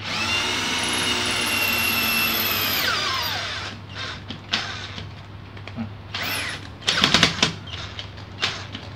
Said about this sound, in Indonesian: Kelihatannya kurang dalam ya, saya melakukan pengeboran.